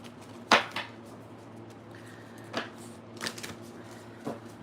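Moonology oracle cards are shuffled by hand in a quiet room: a sharp riffle followed by several softer, scattered shuffles and taps, close and alone.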